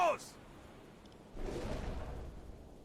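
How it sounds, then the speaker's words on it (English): Two torpedoes launch from a U-boat's tubes in the submarine game UBOAT, one from the rear tube, heard as a brief thump followed by a loud, sustained whooshing rush of water that slowly fades. "Both torpedoes are away. T1 torpedo and a T2 torpedo fired from the rear tube."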